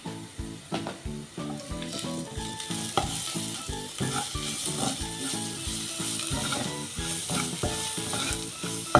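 Spoon scraping and stirring taro with chilli powder and spices in a sizzling frying pan, a rhythmic series of clinks and scrapes over continuous frying hiss, close and steady.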